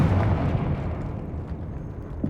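Confringo fire spell from Hogwarts Legacy, a deep rumbling blast with crackling debris that rolls on and slowly fades over a couple of seconds.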